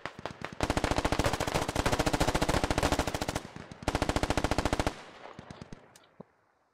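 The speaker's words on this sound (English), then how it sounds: "Hearing Dishka fire." A DShK heavy machine gun in the video game Squad fires long sustained bursts of rapid, loud, evenly spaced shots, with a brief pause midway before the gunfire resumes and then fades out.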